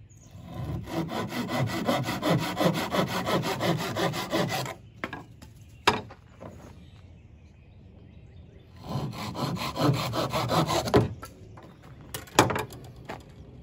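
Chinese privet wood being rasped and sawn by hand into a bow drill spindle, steady scraping strokes for several seconds, a pause with a few scattered knocks, then another run of rhythmic rasping.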